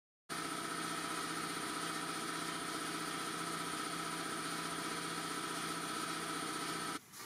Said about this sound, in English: Goddamn compressor scared the shite on me.